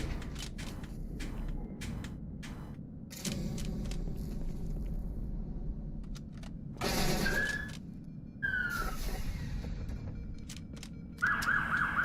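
Siren wailing in the video game Halo 2, rising tones in short bursts amid game noise and abrupt cuts, heard loud and close without talk.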